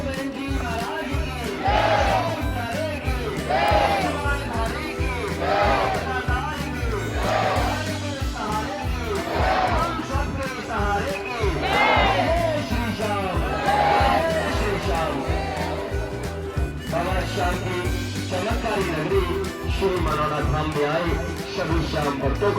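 Dense temple crowd at Manona Dham, a pilgrimage shrine, with many voices raising rhythmic devotional jaikara chants and cheers in repeated bursts, loud and close throughout, over a steady murmur of the packed queue.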